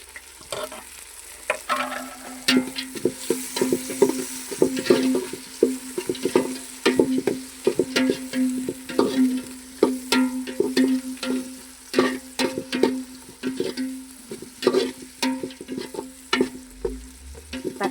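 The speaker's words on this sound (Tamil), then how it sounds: "தக்காளியும் பச்சை மிளகாவும் போட்டு நல்லா வதக்கிக்கிறலாம்." Tomato and green chilli sautéing in a pan, a steady close sizzle broken by frequent rhythmic scrapes and clacks of a spoon stirring, alone without voices.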